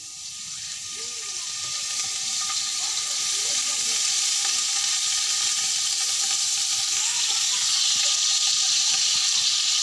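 Onion and garlic sizzle and fry steadily in oil in a large pot on a two-burner stove for beef khichuri, a constant close hiss that swells slightly after the first seconds with faint stirring.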